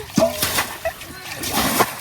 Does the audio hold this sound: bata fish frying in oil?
no